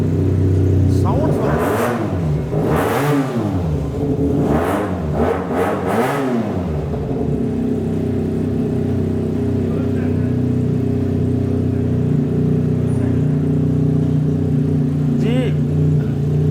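Italian-brand Bukhari 302SU motorcycle with EFI revving hard in a series of rising and falling throttle blips, loud and close, then settling into a steady idle hum with someone talking over it.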